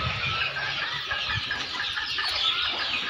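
Free-range native village hens clucking at close range on a traditional farm where chicks are hatched naturally under the hens, with a steady run of calls over light background noise and occasional wing flaps.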